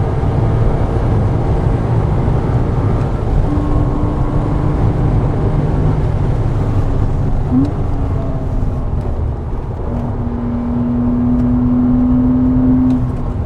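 A Porsche Cayman 987 with the 2.7 engine driven hard around Goodwood Motor Circuit, its engine a loud, steady droning roar that rises and falls in pitch under throttle, holding on continuously throughout.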